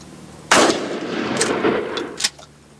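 Shotgun fired at skeet outdoors while breaking in a new gun: one loud, close blast followed by a rolling echo that decays over about two seconds, with no voices.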